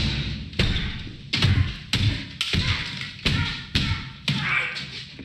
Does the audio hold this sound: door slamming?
yes